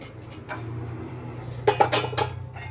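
Metal lid clanks onto a cooking pot, a few quick clatters and a scrape close by, over a low steady hum.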